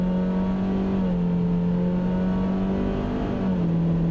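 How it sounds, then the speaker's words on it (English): A noisy car engine drones loudly and steadily under hard driving, its pitch dipping and climbing as gears change via paddle shifters, with a continuous revving hum throughout. "this engine is noisy, and he's right. Have a listen. I'm using the paddles now"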